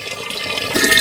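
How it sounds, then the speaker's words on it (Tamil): Water pours into a container of grapes and sugar for homemade grape wine, a short splashing gush that grows fuller and louder toward the end. "தேவையான அளவு தண்ணி சேர்த்துக்கலாம்."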